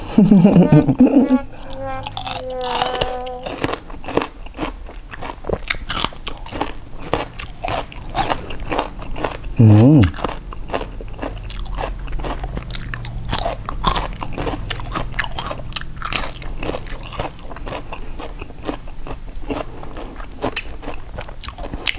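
Raw shrimp soaked in fish sauce is bitten and chewed close to the mic, giving repeated wet crunches and squelchy mastication throughout, with brief moments of talking near the start and middle.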